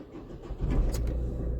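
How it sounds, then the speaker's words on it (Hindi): A car engine turns over and catches, a brief crank rising into a steady low idle, close and fairly loud with no talking. "गाड़ी हो गई है जी स्टार्ट"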